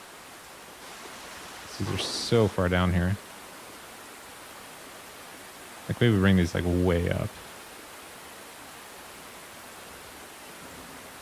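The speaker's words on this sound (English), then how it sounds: "We're like in a waterfall above a pool." Steady rushing water noise of a waterfall pouring into a pool in the video game Splatoon 3 runs throughout while a person speaks briefly twice over it.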